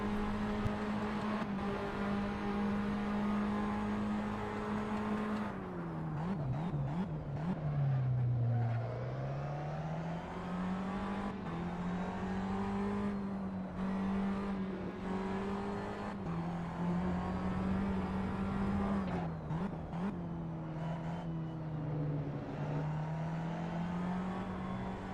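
GT4 race car engines at the Nurburgring in Assetto Corsa: a steady, loud engine drone that rises and falls with shifts and braking, running throughout with no talk.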